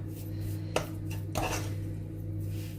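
Grated and mashed potatoes mixed with flour in a bowl, giving a couple of soft knocks and scrapes over a steady low hum, close and moderately quiet.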